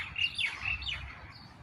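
Small birds chirp and tweet in quick, bright calls outdoors in Kuwait on an overcast morning before rain, fairly near, over a low background rumble.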